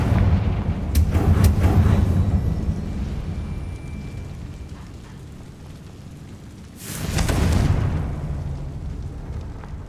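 Explosive Confringo spell blasts in the video game Hogwarts Legacy: a heavy burst early on and a second strong blast about five seconds later, each rolling into a rumbling tail.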